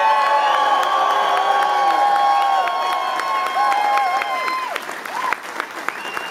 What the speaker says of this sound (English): If your favourite bagpiper tonight is Willie Armstrong, give him a cheer.